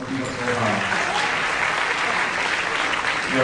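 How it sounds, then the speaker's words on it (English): Audience applause at a university debate grand final, a steady wash of many hands clapping throughout, fairly close and even in loudness. "let's give him a round of applause"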